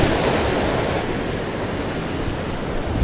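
Ocean surf crashing against rocks on a Philippine shore, a loud, steady roar of breaking waves filling the whole stretch with no pause.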